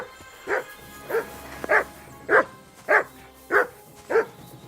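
A pet dog barks seven times in a steady rhythm, each bark spaced about half a second to a second apart, close and moderately loud over a low background hum.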